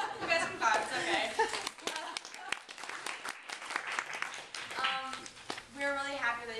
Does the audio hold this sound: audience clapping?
yes